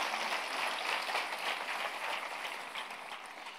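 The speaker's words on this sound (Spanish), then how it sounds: "Denle un aplauso bien fuerte al Rey." A church congregation applauds during a Spanish-language devotional service, a steady wash of clapping sustained at even strength throughout, moderately distant with no voice on top.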